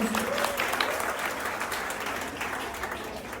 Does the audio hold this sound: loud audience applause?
yes